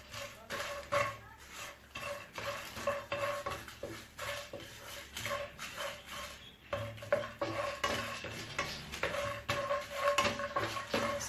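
Whole spices for biryani masala are stirred while dry-roasting in a pan over a very low flame, giving continuous scraping and rattling with light clinks of the spoon against the pan, close and steady, with no talking.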